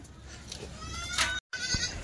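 A newborn Kathewadi goat kid, born in a moving truck, bleats in a few short, high cries amid background rustle and livestock shuffling, with one abrupt dropout partway through.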